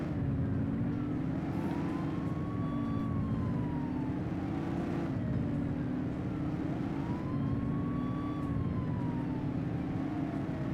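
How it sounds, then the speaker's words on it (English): A police car siren in the video game The Precinct wails in long rising and falling sweeps over a steady engine rumble, loud and continuous, with an electronic, game-like quality. "Turn on the sirens."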